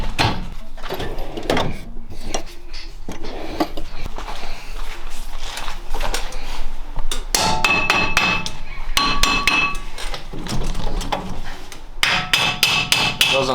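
Repeated hammer blows on a car's brake rotor to knock it loose, sharp metallic bangs coming in irregular bursts, close and loud, with clanking and shuffling between strikes.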